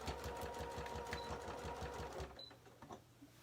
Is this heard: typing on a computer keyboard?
no